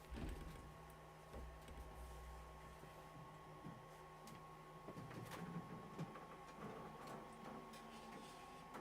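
An LDO Voron V0.2 3D printer at work gives a faint, continuous mechanical whir with steady motor tones and scattered small clicks and ticks. No voices are heard.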